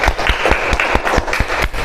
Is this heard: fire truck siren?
no